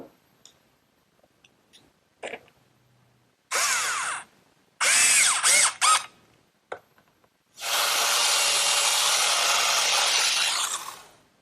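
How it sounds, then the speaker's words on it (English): A belt sander on a wooden bedside table top starts and stops in several short bursts, then runs for a longer stretch, loud and close with quiet gaps between. "the belt sander does a great job with the initial sanding"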